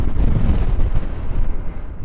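Strong wind buffets the microphone while riding an XPulse 200 4V motorcycle, a loud, rumbling gusty roar that surges and dips without any talking.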